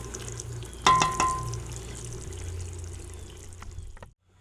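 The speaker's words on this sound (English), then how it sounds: "we're bubbling up a pot of black gold here" Balsamic BBQ sauce simmers in a pot with soft, low bubbling and popping, marked by one sharper clatter near the start before settling into quiet, even bubbling that ends abruptly.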